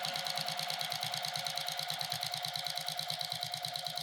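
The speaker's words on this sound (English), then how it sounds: "we're going to stitch along one of the side, the right hand side, with 3/8 inch of seam allowance" A sewing machine runs a steady, fast stitch down the right-hand side seam of a jelly-roll-strip drawstring bag, with an even rapid needle rhythm throughout, close and alone, stopping at the end.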